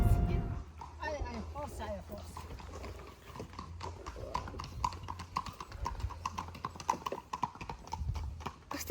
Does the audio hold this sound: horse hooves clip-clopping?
yes